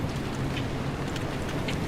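Steady patter of rain in Pacific Drive, an even wash of drops with no speech, mid-level and continuous for about two seconds.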